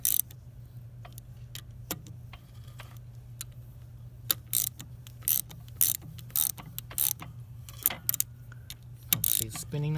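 A wrench tightens 10 mm bolts on the oil filter gasket cover of a Honda Monkey motorcycle, giving close, sharp ratcheting clicks in short irregular bursts over a low steady hum.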